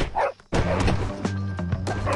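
A dog in the Bully video game barks and yips in a short burst after a brief lull, the barks close and fairly loud over a steady game background.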